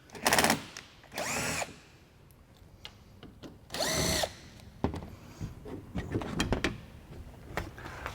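Screws come out of a Bosch air handler cabinet under a power drill, giving two short, loud, close motor whines with rising and falling pitch and a pause between them, followed by quieter clicks and rattles of handled metal parts.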